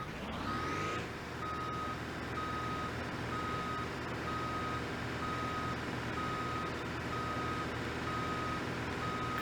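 Truck reversing alarm in the BeamNG.drive video game: a steady run of evenly spaced electronic beeps over a constant engine drone, loud and continuous throughout.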